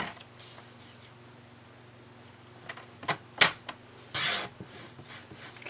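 A paper trimmer cuts cardstock: a soft click, then one short, quick slicing swipe of the blade, faint against quiet room tone.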